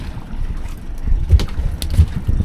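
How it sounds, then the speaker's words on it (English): Strong northerly wind buffets a small fishing boat at sea, a steady low rumbling gusting roar with a few heavier thumps of wind against the microphone, no voices. "Just ducking down out of the wind because that northerly's cranked up good"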